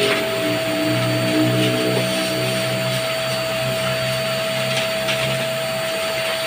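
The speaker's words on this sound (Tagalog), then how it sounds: "Binublower na lang ng aking kasama." A pet blower runs steadily while drying a freshly groomed, closely shaved dog, giving a loud, continuous whooshing motor drone with a fixed whine and no voices.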